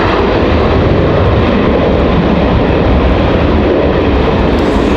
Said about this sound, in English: This Max touches down again from Dallas Love's Field.